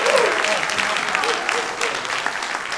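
Audience at the 2015 Liberty County joint political forum applauds the candidates, a steady wash of many hands clapping at moderate volume, with a voice faintly audible near the start.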